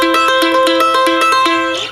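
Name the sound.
cross-picked mandolin, backwards banjo roll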